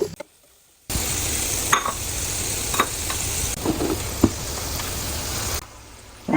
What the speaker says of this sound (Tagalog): We will start frying them.